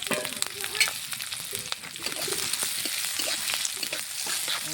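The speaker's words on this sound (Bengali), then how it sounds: "ঝাল জিরা, পেঁয়াজ কুচি, আর সরিষার তেল দিয়েছি কড়াইয়ে।" Chopped onion and cumin fry in mustard oil in a wok, giving a steady, close sizzle with occasional stirring scrapes and no talking.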